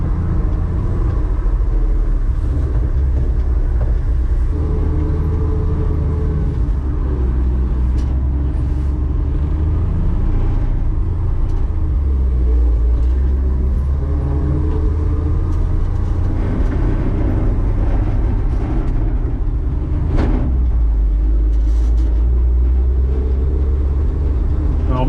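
An old Ford F100 donor truck engine running while being driven, heard from inside the cab: a loud, steady low rumble and drone that holds throughout with slight rises and falls in pitch.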